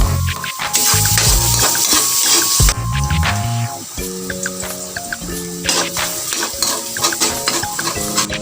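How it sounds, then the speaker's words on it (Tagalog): Garlic and onion sautéing in hot oil in a pan for ginisang ampalaya, with loud sizzling and frequent stirring scrapes while music plays throughout. "Isunod ng igisa ang bawang."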